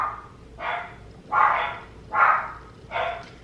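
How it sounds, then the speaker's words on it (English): Dogs in a home bark at a distance, four or five separate barks spaced about every three-quarters of a second, moderately loud with quiet gaps between, no talking over them. "I can tell someone's home, but they're barking at something else."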